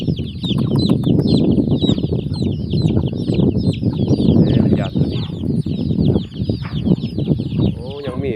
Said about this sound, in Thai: สวยสวยตัวนี้ เป็นไก่หนุ่มได้พี่น้องเด้ เป็นไก่หนุ่ม